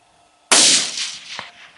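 A single sharp rifle shot fired at a pronghorn antelope during a hunt, loud and close, with a sudden crack that rings out and decays over about a second, followed by a faint distant impact thump.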